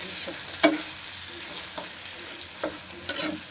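Bathua greens frying with shrimp in a reddened spice paste give a soft, steady sizzle, broken by a few spatula scrapes and one sharp metallic clink near the start, all close and moderately quiet.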